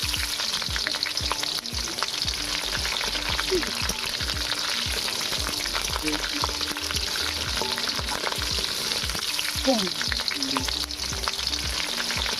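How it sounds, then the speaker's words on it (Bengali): Chopped onions frying in a hot pan while prawns wait to be cooked, a steady loud sizzle throughout with occasional stirring scrapes and clinks of a utensil, no talking. "এবারে কোঁচানো পেঁয়াজগুলো আমি দিয়ে দিচ্ছি।"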